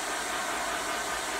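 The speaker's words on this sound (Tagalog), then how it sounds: "Mag-blower na po ako." A hair dryer blows at home during a hot oil hair treatment, a constant, dense rushing whoosh that stays loud and even throughout, with no talking.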